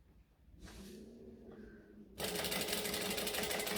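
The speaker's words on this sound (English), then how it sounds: "You got to make sure that you backstitch because we're joining everything." A sewing machine stitches through fabric in a short run, pauses briefly, then drives a louder, faster burst of stitching when backstitching, close and alone.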